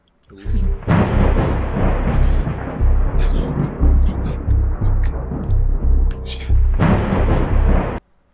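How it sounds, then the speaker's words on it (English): Loud, sustained thunder plays from a video, heavy and rumbling for about seven seconds with a rough, crackling edge, starting and stopping abruptly. "Lightning, thunder"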